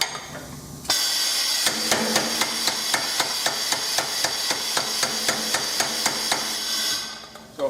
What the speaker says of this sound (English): so I'll set the hammer in reciprocation mode just by moving the lever up.